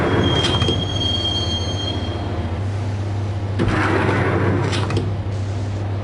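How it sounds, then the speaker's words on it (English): Steady rumble and rhythmic clatter of a subway train riding the rails in the video game Max Payne, with high wheel squeals and a couple of louder metallic jolts, close and continuous with no voices. "the train doors had already shut behind me, and I was in for the ride"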